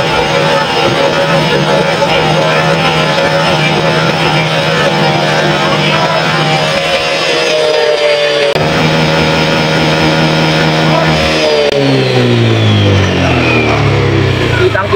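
A Honda Click 150/125 scooter with a clutch bell problem revs loudly and steadily on a stand, the engine whine holding high before dropping away and winding down in falling pitch near the end.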